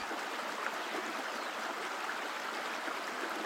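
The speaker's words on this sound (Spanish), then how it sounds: "Su fuerza proviene de la masa de agua turbia y fangosa, cargada de sedimentos, que cae con violencia." Heavy muddy, sediment-laden water of the Hukou waterfall plunging with force, heard as a steady, dense broadband roar that stays loud and unbroken throughout.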